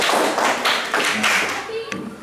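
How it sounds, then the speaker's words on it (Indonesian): A classroom full of people claps together in a dense, steady patter of hands lasting a couple of seconds, fairly close and loud. "Mari tepuk tangan"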